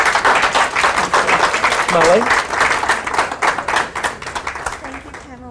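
Audience applause for midwives at a talk on newborn behaviour, a dense burst of clapping that fades over several seconds, with a few spoken words over it.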